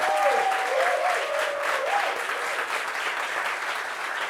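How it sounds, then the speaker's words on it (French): A studio audience applauds a guest arriving on set, a steady roar of clapping held at even loudness throughout, with a brief voice line at the start. "Ovation pour elle."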